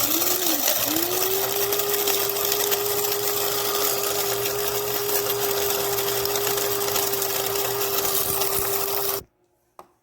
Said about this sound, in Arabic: انا دايما اخلط هذا الخلاط